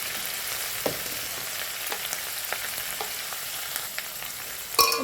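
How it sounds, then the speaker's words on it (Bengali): Ground spices with turmeric and salt fry in a pan for a fish recipe, giving a steady broadband sizzle with faint scrapes of stirring and a sharper clatter near the end; no one talks. "এবার আমি সমস্ত মশলাগুলোকে আর একটু ভেজে নিচ্ছি"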